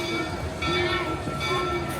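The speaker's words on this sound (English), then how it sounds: "What is this clanging we can hear? It's the train!" A Disneyland train clangs as it pulls into the station, a repeating metallic bell-like ring heard at moderate distance over steady rolling rumble.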